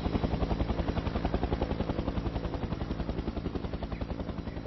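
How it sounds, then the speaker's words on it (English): A helicopter carries a mountain rescue patient to hospital, its rotor chopping in a steady, loud, rapid beat that runs throughout with no voices over it. "the mountain rescue people took her into the helicopter with Dad"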